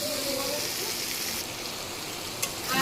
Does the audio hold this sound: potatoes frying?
yes